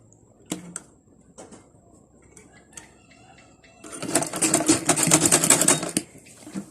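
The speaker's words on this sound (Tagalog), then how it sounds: "habang tinatahi natin to, hinihila po natin yung garter" A sewing machine stitches elastic garter onto fabric for a flat-screen TV cover, a loud, fast, continuous mechanical whirring burst of about two seconds after a stretch of quiet handling clicks and rustles.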